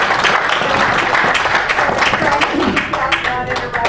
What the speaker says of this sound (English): Could we give her just one more round of applause?